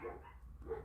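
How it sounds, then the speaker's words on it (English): A couple of dogs bark in two short bursts from somewhere off in another room, a brief muffled yip-like pair of barks, moderately faint, with no one talking. "those are my dogs barking."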